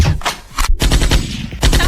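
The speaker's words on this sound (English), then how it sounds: "everybody else who thinks the gunshots might be a little" Gunshot sound effects play from a soundboard on a talk show, as a loud, close barrage of rapid machine-gun-like bursts with a short gap before the firing resumes.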